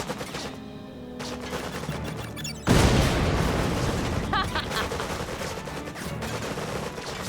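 Tanya, the commando unit in the video game Red Alert 3, opens fire: a quieter lead-in gives way to a sudden loud burst of rapid gunfire and booms that continues densely, with in-game voices mixed in.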